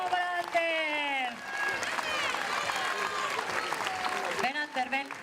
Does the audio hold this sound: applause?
yes